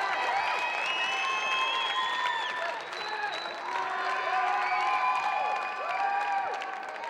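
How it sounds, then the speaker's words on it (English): Spectators at a trampoline finals event applaud and cheer, steady clapping with whistles and shouts rising over it, while a commentator's voice threads through. "Good response from the crowd."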